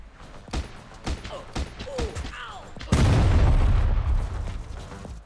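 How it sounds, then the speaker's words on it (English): Heavy booms and blasts as a building is destroyed in the Heli Monsters helicopter action game, with scattered pops, a short whistling sweep and a few sharp hits before a long, loud rumbling explosion fills the end. "I officially destroyed the building"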